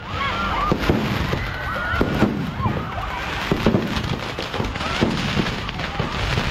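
Dense crackling bursts and popping fireworks at a fireworks display competition in Oroquieta City, Misamis Occidental, go off continuously at moderate distance, with whistling streaks rising through a noisy crowd background.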